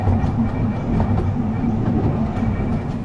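A Diamond Valley Railway train runs around the Pine Tree Loop, giving a loud, continuous low rumble and drone with faint wheel clatter, steady throughout and without talk.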